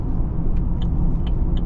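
A new pickup truck driving along, its engine and road noise forming a loud, steady low rumble close by, with a few brief higher rattles or clicks breaking through.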